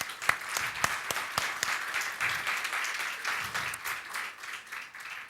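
Church congregation clapping together in a worship service, a lively crowd applause with a few sharp individual claps standing out, steady and moderately close.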